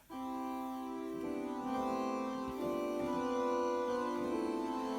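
A soft, sustained electronic organ String 16 stop plays slow held chords with a gentle, reedy buzz, quiet and steady with no voices.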